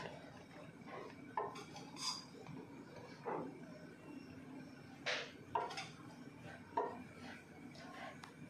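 Spoon scraping and clinking against a pan and plate while chicken fried rice is dished up, with irregular metallic taps and scrapes spaced a second or so apart, fairly faint, with no talking.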